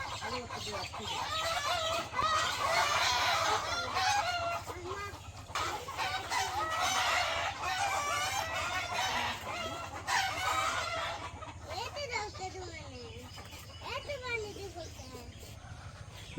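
Village chickens cluck busily and a rooster crows several times nearby, with the bird calls coming in repeated bursts over a low background hum while people talk faintly.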